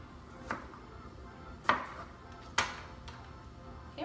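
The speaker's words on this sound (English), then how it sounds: "So I'm gonna trim them about 2 inches, and we're gonna cut them like julienne." A knife cutting vegetables into julienne strips on a board: three or four sparse, sharp chopping knocks, close and quiet, spaced irregularly over a low background hiss.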